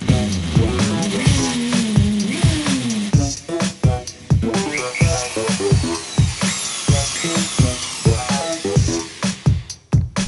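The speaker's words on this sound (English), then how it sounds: "So, ceiling holes drilled." A power drill bores holes into a ceiling for speaker installation: whining, pitch-shifting motor bursts start and stop repeatedly, broken by short knocks and grinding scrapes, close and fairly loud.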